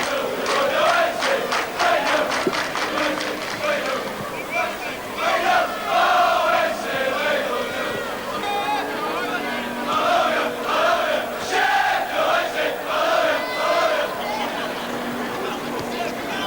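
A large following of football fans makes a noisy, rolling roar of chanting and shouting at QPR's ground during the warm-up on the artificial pitch. Waves of massed voices rise and fall continuously.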